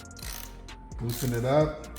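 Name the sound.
ratchet with 24mm socket loosening a bolt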